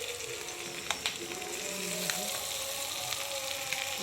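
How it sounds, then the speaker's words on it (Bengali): Spice paste frying in a pan for a crab curry, a soft steady sizzle with a few light clinks and stirring scrapes, fairly close but low in level. "এটা মশলাটাকে ভালো করে ভেজে নিচ্ছি"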